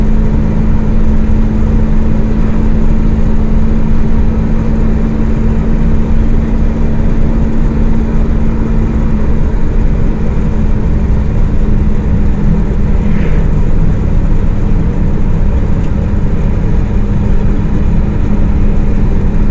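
A Volkswagen Gol with a 2.0 engine cruises along the road, giving a loud, unbroken engine and road drone with a steady low hum and no pauses.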